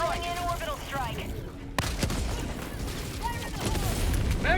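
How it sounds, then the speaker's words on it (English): Orbital strike in the video game Helldivers 2: a sharp sudden blast cuts through mid-clip, followed by dense rumbling explosions and gunfire, with whistling incoming tones before and after. "Calling in orbital strike."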